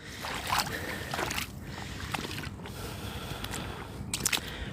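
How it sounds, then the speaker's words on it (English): Water swishes and splashes in uneven bursts as someone wades through the Thames shallows at Surrey Quays, close by, with a steady background wash. "there's something so relaxing just about walking through the water and the sound of that water"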